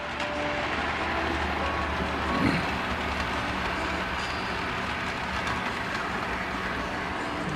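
A model train pulling three tank cars runs along a layout, giving a steady, continuous rolling rumble with light rail clatter at moderate level, no voices.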